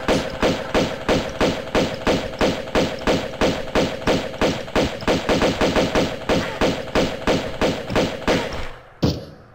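Rapid automatic gunfire in a shooter video game cuts down an enemy. The shots pound out in a fast, even rhythm for several seconds, loud and close, then end with one final heavier thud.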